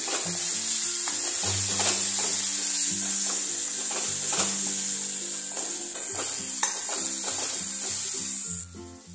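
Ground masala paste fries loudly in hot oil for a Vidarbha-style patwadi rassa, a dense continuous sizzle with scattered stirring scrapes and clicks close by, cutting off abruptly near the end; no one talks.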